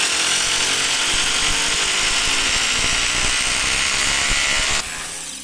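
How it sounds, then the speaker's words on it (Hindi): A Bildskill rotary hammer drill boring into granite, a loud, steady high-pitched grinding roar with rapid hammering pulses that runs continuously for several seconds, then drops in intensity near the end as the bit breaks through. "सिर्फ 6 सेकंड के अंदर ही इस मशीन ने ड्रिल कर दिया"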